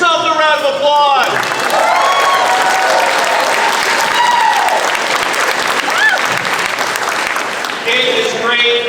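A crowd at a disability rights rally breaks into sustained applause that fills the space, with a voice speaking over it at the start and again near the end.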